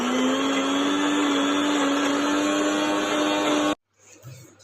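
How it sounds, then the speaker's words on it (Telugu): A kitchen mixer grinder whirs loudly and steadily while blending soaked lentil batter with garlic, ginger, onion, salt, mint and curry leaves for garelu, then cuts off abruptly, leaving a few faint clinks. "మిక్సీ పట్టుకోవాలి"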